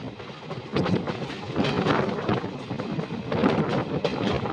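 The 03414 Khatipura Special passenger train at a station, a loud continuous rumble and clatter with rolling surges and wind buffeting.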